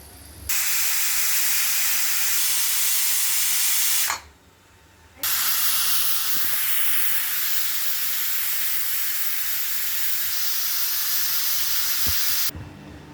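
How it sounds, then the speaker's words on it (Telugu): A pressure cooker holding a dobba karjam curry lets off long, loud blasts of hissing steam, one roaring release of several seconds, a short pause, then a second sustained jet that continues for over seven seconds. "ఒక ఫోర్ విజిల్స్ వచ్చేవరకు ఉంచుకుందామండి"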